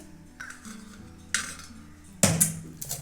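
A boiled potato is placed onto a metal plate, giving a few close clinks and knocks against the metal, with two sharper contacts near the middle and end.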